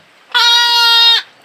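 A Merino lamb in a pen gives one loud, clear, sustained bleat close by, lasting under a second.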